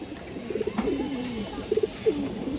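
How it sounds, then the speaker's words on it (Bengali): An old-line black male pigeon coos in short throaty bursts, a few soft rolling calls close by, separated by brief pauses over a quiet background. "পুরোনো লাইনের একটা কালো বাঁকা নরকবুতর আছে"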